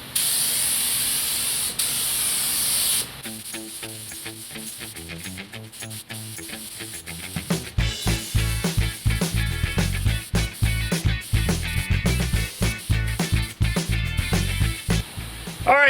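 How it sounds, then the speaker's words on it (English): A close Sharp FX 3000 spray gun hisses loudly for a few seconds spraying clear coat on car body panels, then gives way to a quick rhythmic series of mechanical pulses. "I'm about to shoot some clear through my Sharp FX 3000 spray gun"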